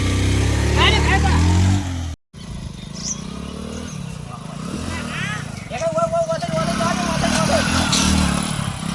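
A motorcycle engine runs close by, loudest in the opening two seconds before a brief cut, then continuing low beneath steady, lively conversation from several voices.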